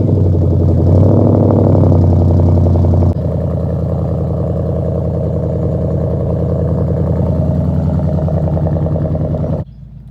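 Ford Mustang GT 5.0 V8 with its exhaust resonators removed, idling close by: a loud, deep, burbling rumble that steps down slightly in level after a few seconds, holds steady, then drops sharply near the end.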